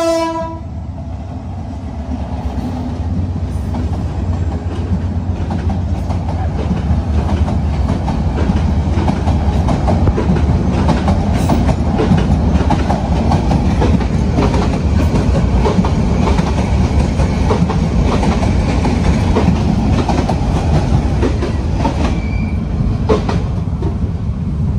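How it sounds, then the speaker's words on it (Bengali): A train passes close by near a roadside tea stop in a Bangladeshi village, with a horn sounding at the start, then a loud, steady rumble and clattering wagons that continue throughout with no talk. "তো এই মুহূর্তে একটা ট্রেন আসলো।"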